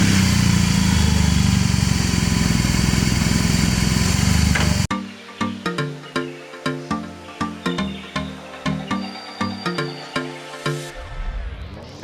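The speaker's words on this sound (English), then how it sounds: "there's like a huge boxer engine jutting out of here" A BMW R18 motorcycle's boxer engine gives a loud, steady drone for several seconds, then cuts to a lumpy, rhythmic idle with regular pulsing beats, close by.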